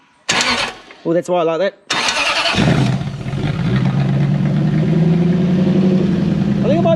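A Toyota Crown's 3UZ V8 is cranked by touching a wire in place of a missing start relay, then fires and settles into a steady, loud idle, with brief speech before it catches.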